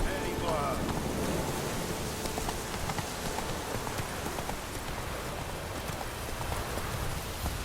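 A ridden horse's hooves clip-clopping steadily under a dense wash of rain-like noise, continuous and fairly close, with a faint voice briefly audible near the start.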